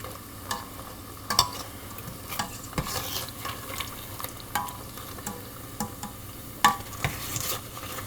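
Tortilla chips fry in hot oil with a steady soft sizzle, broken by frequent stirring scrapes and light clatters, fairly close and quiet, with no talking.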